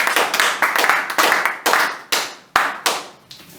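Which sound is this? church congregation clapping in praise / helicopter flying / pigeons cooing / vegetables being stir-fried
church congregation clapping in praise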